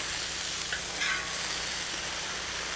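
Beef strips and garlic for pepper steak frying in a pan, a broad steady sizzle close up, with a brief stir or clink near the middle, no speech.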